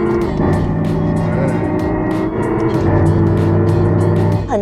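Simulated engine sound effect of a 2026 Lexus RZ 550e F Sport electric car, a loud continuous synthetic engine drone with layered tones and rhythmic pulses, close and steady throughout without speech.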